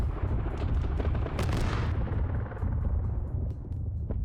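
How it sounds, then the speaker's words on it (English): Autocannon fire from war machines in a video game, a dense, loud, continuous roar of rapid heavy shots and blasts filling the whole stretch with no voices. "those autocannons tear it apart"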